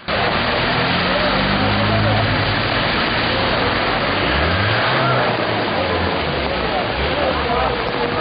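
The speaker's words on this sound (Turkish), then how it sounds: "göle dönen cadde ve sokaklarda araçlar ilerlemekte güçlük çekerken" Cars pushing through flooded streets during a heavy downpour in İnegöl, Turkey: loud, constant rushing water and rain with engines revving and passing, under a voice talking.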